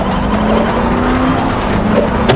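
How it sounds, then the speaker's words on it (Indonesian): A car engine roars steadily at speed in the horror film Starve (2014), a sustained loud drone with a faint tyre squeal and a sharp burst at the end, with no talk. "Tapi mobil itu malah menabraknya."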